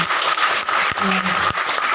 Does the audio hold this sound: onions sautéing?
no